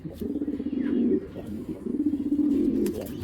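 A large racer pigeon coos on its own without its mate, close and fairly loud, in two long rolling bouts of low, throaty calls with a short pause between them.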